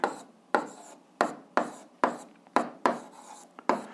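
Handwritten strokes from writing out an eighth-grade algebra exercise, about eight brisk scratchy pen or marker strokes in an irregular rhythm, close and clear with no talking.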